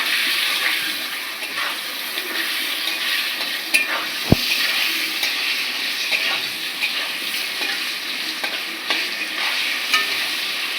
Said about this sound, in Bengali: লবণ, হলুদ দিয়ে আলুটা ভাজবো।